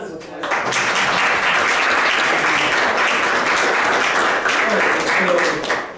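Audience applause after a lecture on trees and arborists, loud, dense and steady clapping filling the room throughout, with faint voices beneath it.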